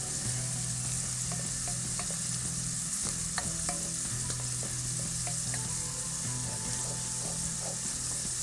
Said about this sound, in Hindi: मटर अब फ्राइंग की तरफ आ रही हैं, तो इसको हम करते हैं फ्राई।